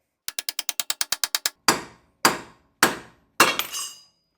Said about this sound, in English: I'm gonna try to come at it this way with the pickle fork and see if I can break it.